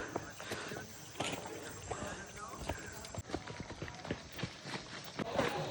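A horse walking on a hiking trail in Santa Cruz, Davao del Sur, its hooves clip-clopping in a steady, close rhythm throughout, with people talking over the hoofbeats.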